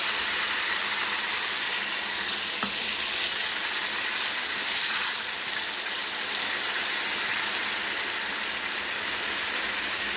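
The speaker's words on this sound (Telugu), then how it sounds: "ఇప్పుడు మనం ఇది గుజ్జు, చింతపండు గుజ్జు వేసేస్తున్నాం." Tamarind pulp hitting a hot pan for pulihora gives a loud, continuous hiss and sizzle that holds steady from start to finish, close up with no voices.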